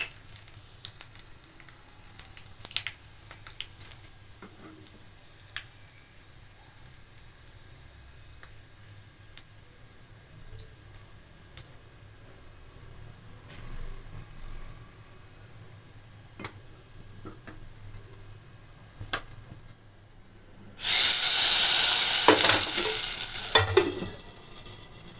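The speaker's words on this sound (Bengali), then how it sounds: "তো দেখো তেলটা গরম হয়ে গেছে, এখানে আছে দেখো শুকনো লঙ্কার 5 ফোড়ন," Dried red chilli and five-spice panch phoron hit hot mustard oil for a Bengali pumpkin and potato curry, a quiet pan hiss suddenly bursting into a loud, close sizzle for about four seconds near the end.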